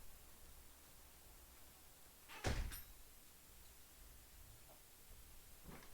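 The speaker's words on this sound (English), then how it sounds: "My balcony door opened." A balcony door bumps and rattles open in one sharp, brief burst against steady background hiss, followed by quiet and a faint later knock.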